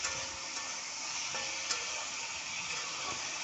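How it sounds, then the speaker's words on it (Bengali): Snake gourd fries in hot oil in a pan while being stirred, a close, steady sizzle with faint scrapes and light knocks of the spoon throughout. "আমার চিচিঙাটা আবার নাড়তে নাড়তে ভাজা হয়ে আসছে"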